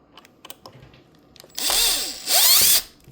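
A power screwdriver backs screws out of an Ecovacs Deebot X1 Turbo robot vacuum, with two short whirring bursts following some light clicks and handling taps, all close and in a quiet room.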